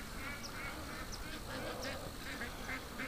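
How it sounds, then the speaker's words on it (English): Ducks quack in a loose scattered series across a busy outdoor bed of steady background noise, the calls moderately near and intermittent. "Oh, ducks."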